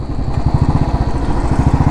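A rental motorbike rides along a forest road, its engine giving off a loud, steady, rapid putter that stays close throughout.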